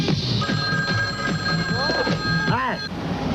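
A telephone bell rings in a steady electronic trill, cut through by a brief warbling chirp near the end, with a voice murmuring underneath.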